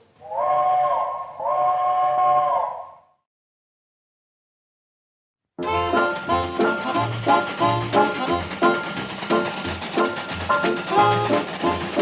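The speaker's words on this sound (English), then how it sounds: "Train's coming, Kate. Yeah, I heard." A steam train whistle sounds in two long, loud blasts near the start, then after a short silence busy music-like sound with rhythmic thumps follows as the train approaches.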